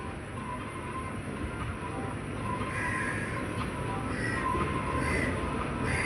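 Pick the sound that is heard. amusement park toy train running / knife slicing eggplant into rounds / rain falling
amusement park toy train running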